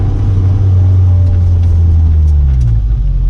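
Lotus sports car engine rumbling up close as a loud, deep and steady drone, with the pitch shifting slightly as it revs, and no talking over it.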